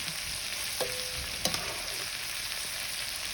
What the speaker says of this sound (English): I want to coat all of that pasta in that fat, that olive oil, and that garlic.